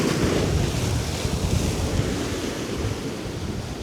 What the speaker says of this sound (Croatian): Vjetar pojačava.